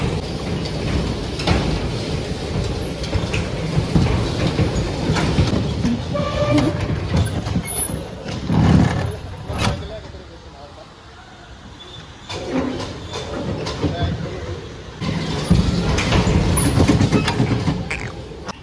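A ride train at a water park in Ludhiana running along its track, with a steady rolling rumble and clatter, close and fairly loud, swelling and easing over the stretch, with no talking.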